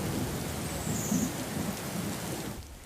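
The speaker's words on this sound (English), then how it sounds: "We woke up and realized it was thundering and lightning" Heavy rain pours steadily during a severe thunderstorm in New Orleans, with low rumbling thunder rolling beneath the constant hiss of rainfall, which thins out near the end.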